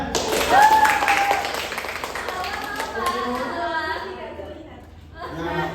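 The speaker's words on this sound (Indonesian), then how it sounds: "Beri tepuk tangan." Children in a third-grade classroom clap together, a scattered burst of hand claps mixed with chatter and a teacher's voice that fade toward the end.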